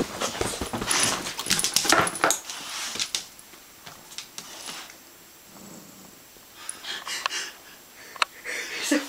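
A big dog named Cow sniffs, snorts and whimpers close by in irregular bursts, with faint wheezing breaths and quiet stretches between.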